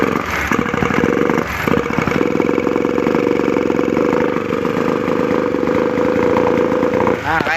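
A Honda CB150R motorcycle with a fault runs roughly at close range, its engine idling unevenly with a loud, steady drone broken by sputters and uneven pulses.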